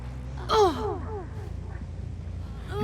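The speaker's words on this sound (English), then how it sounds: "Oh, grunts of pain." A Dead by Daylight survivor lets out a few strained, breathy grunts and gasps of pain, one louder cry early, then weaker moans trailing off, with another grunt rising at the very end.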